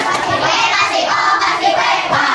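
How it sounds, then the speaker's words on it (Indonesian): A classroom of students claps together in steady, dense applause, loud and close, with no talking over it. "Kita tepuk tangan untuk kita semua"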